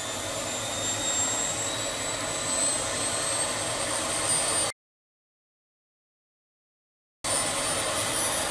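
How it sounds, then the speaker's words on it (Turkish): A T129 ATAK attack helicopter engine running loud and steady with a broad turbine roar and whine, broken by a gap of silence midway before the roar returns. "Bir numaralı motorumuzun çalışmasını hep birlikte takip ettik."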